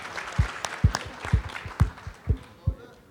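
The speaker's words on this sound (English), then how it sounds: "We could all give a round of applause to welcome our guests." Rhythmic, fairly sparse claps with soft thumps ring out near the microphone as an audience welcomes guests to a disability and disclosure panel discussion.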